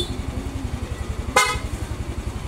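A Yamaha NMAX v1 scooter engine idles with a steady chugging beat, then a single brief, loud stock horn toot sounds midway before the idle continues.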